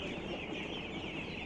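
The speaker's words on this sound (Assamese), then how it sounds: "এইকেইটা আমাৰ 8 দিনৰ পোৱালি হয়" Eight-day-old ducklings on a duck farm peep in a dense, continuous chorus, a crowded flock close by with no voices over it.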